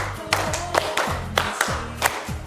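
A group claps together during an ice-breaker clapping game, sounding as a handful of sharp, spaced bursts of claps in a steady rhythm, close and moderately loud.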